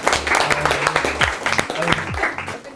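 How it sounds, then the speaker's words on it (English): An audience at a business talk for young entrepreneurs claps in a short burst of applause. The clapping is moderately loud and mixed with voices speaking. "Let's have a round of applause for the first question."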